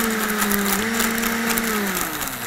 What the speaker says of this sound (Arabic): ونخلط المكونات دي كلها في الخلاط. نبتدي بقى نشغله كده